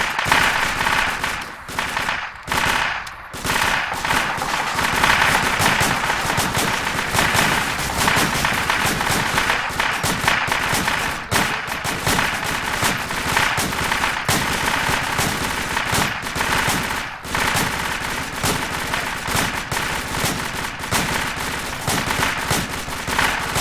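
Gunfire during a fire team training exercise, dense bursts of shots crackling almost continuously at loud level, with sharp overlapping reports and brief gaps, no clear talk.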